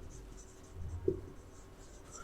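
Faint pen-on-paper writing as an accounting journal entry is written by hand, quiet scratchy strokes close by with one brief tap.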